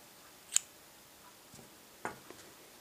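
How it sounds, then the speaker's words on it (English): Scissors snip through tan yarn during a crochet scarf project, giving a sharp faint click followed by a couple of softer snips about a second and a half later, close by in a quiet room. "So cut the tan yarn"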